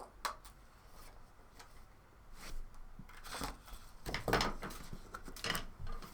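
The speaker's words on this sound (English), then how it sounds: "Where it joins the edge of the card, just snip that off." Scissors snip the edge of a craft card while a Christmas header fold card is being made. Faint, close clicks and cuts come at irregular intervals with small handling noises between them, and no one speaks.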